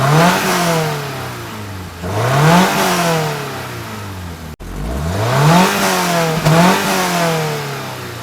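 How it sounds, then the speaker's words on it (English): A stock-exhaust Subaru BRZ revs up twice in long sweeping climbs, the engine note rising and falling smoothly, close and loud, with no voices. "most of you guys would want to hear what these stock exhausts sound like"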